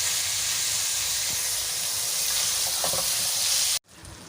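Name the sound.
frying keema mince for stuffed tinda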